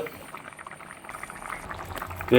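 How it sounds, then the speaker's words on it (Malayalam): Soft, steady bubbling of a fish head curry with kudampuli simmering in a clay pot, faint and close, ending with a brief louder clatter. "മീൻ കറി മഞ്ചട്ടിക്കകത്ത് തിളച്ചുകൊണ്ടിരിക്കുന്നു"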